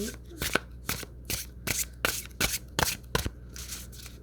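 Madame Clara's 5-cent Tarot cards (2nd edition) are shuffled close up in a quick series of crisp riffling bursts, roughly ten in a row, with a faint low hum underneath.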